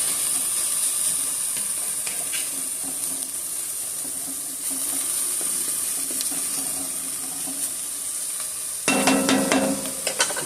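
Chili ingredients cooking down in a pot, giving a steady, close hiss of sizzling with faint crackles throughout, plus a brief louder clatter near the end.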